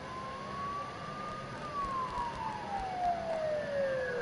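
Emergency sirens wail in the fog of the Persona 4 Golden game, a steady rising and falling tone sweeping slowly downward, moderately loud over a low background hum.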